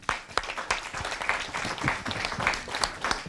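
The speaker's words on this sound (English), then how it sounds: "Can you give them a round of applause?" Audience applauding at a discussion on the Burkinabe uprising, clapping dense and steady throughout with sharper individual claps standing out near the start.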